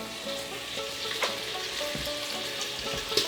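Bacon fries in an Instant Pot with a loud, steady sizzle and scattered pops and spits of fat, plus a faint stirring scrape now and then.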